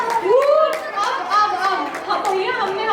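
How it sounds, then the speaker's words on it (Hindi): Guests clap loudly at an engagement celebration, sharp irregular hand claps ringing out amid close, lively chatter and voices, including a child's. "चलिए बहुत जोर से तालियां।"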